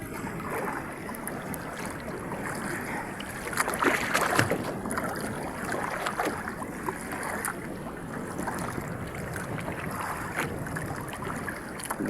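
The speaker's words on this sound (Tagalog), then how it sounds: "Wala kaming makina. Sagwan lang kami, maalon." A heavy wooden boat with no engine is paddled by hand through choppy sea, with rhythmic paddle splashes and slapping waves over a constant wind-and-water wash, fairly close and loud, no voices.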